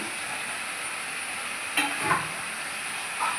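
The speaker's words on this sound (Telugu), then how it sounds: "మీరు బాగా ఫ్రై చేసుకోవాలండి బాగా కలుపుకోవాలి" Chicken masala for biryani fries in a pan under a faint, steady hiss, broken by a couple of brief scrapes as it is stirred.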